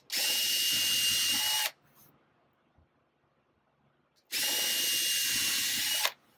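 A power drill bores about half an inch into a printing board, running in two loud, steady bursts of nearly two seconds each, with a quiet pause between them.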